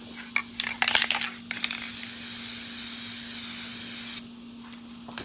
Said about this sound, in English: Okay, we're gonna give it the second coat.